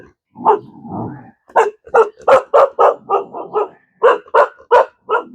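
Puppies barking in a rapid series of about a dozen sharp yaps and yips, close and loud, with a brief growly whine early on and no talking over them.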